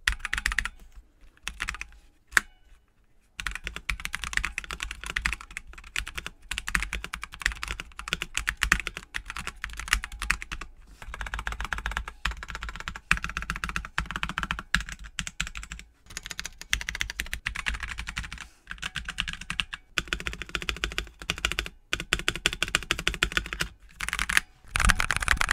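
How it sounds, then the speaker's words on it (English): Typing on a modded Drop ENTR mechanical keyboard, a steady stream of close, crisp key clacks with brief pauses between bursts and no voices. "Now that we've finished doing basic mods to the keyboard, let's see how it sounds"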